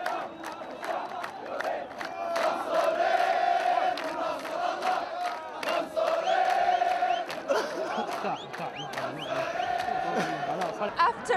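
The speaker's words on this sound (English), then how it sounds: "the crowd began celebrating" A large crowd of protesters celebrating at Pearl roundabout in Bahrain, with loud sustained chanting and cheering in rolling waves and a voice speaking over the din.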